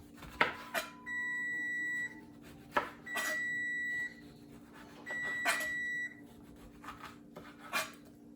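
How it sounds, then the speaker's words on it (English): A kitchen timer beeps in a home kitchen while chicken cooks, giving three separate bursts of steady electronic tones about a second long each, separated by soft clattering and handling noises at moderate loudness. "That's my timer for my chicken."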